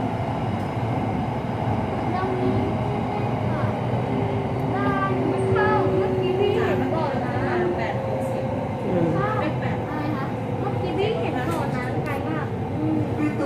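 A red line commuter train runs steadily and loudly throughout, a continuous rumble with squealing, whining tones, while people talk over it the whole time.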